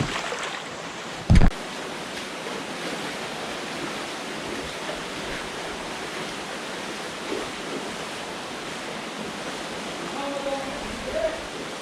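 A waterfall at Pa Mak, where spring water rises from the rock and drops over it, pours as a steady broadband rush throughout, with a brief thump early on.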